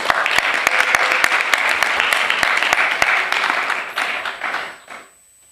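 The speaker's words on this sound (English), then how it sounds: "so let's give her a big round of applause" A Bharatanatyam arangetram audience applauds the nattuvangam performer with loud, dense clapping and a few sharp individual claps standing out, thinning near the end before cutting to near silence.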